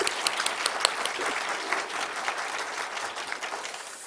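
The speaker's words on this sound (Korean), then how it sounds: "우리 한번 박수 한번 해드릴까요?" A church congregation breaks into steady applause, many hands clapping together for the full stretch, a dense and moderately loud wash of claps in a large room with no one speaking over it.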